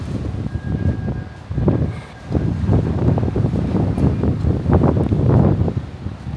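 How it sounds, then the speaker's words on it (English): Gusty wind in Japan buffets and roars across the microphone in uneven rushes, loud and close, with no talking. "It's a bit windy."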